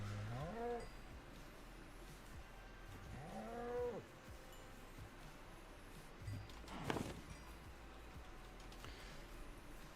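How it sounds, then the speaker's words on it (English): Minecraft cows moo in a game world, two drawn-out lowing calls early on with a third rougher one later, fairly close and clear over a low steady background hum. "Actually, I need to feed the cows."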